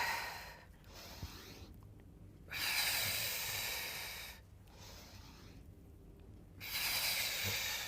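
Breathing during a Pilates plank push, with two long, soft, hissing exhales separated by quiet pauses, close and faint.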